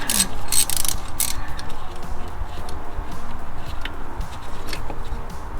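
A hand ratchet working a long bolt loose on a Subaru BRZ intake during an inlet hose install, rapid close clicking bursts early, then lighter intermittent ratcheting and handling noise.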